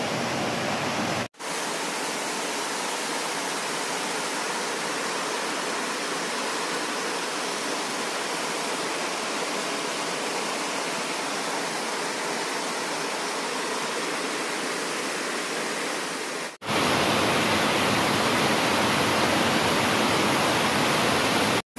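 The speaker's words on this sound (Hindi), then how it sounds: "कुछ दिनों से यहाँ पर हम लोग बारिश थमने का नाम ही नहीं ले रहे।" Heavy monsoon rain pours in a steady, dense hiss like rushing water, continuous and loud with no pauses, broken only by abrupt cuts where the sound drops out and resumes.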